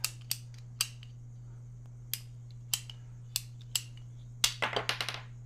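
Scissors cutting a piece in half while building a baby gecko house: sharp, close snips spaced out at first, then a quick burst of rapid cuts near the end, over a steady low hum.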